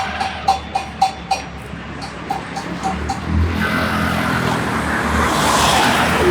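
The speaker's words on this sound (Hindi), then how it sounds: "ये देखिए भाई हमारी गाड़ी।" A car drives along a mountain road in Nepal, its engine a continuous low rumble that grows louder, with a run of regular clicking or ticking sounds in the first few seconds.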